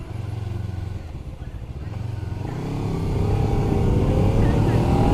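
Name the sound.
KOVE Thornbird 250RR sport motorcycle being ridden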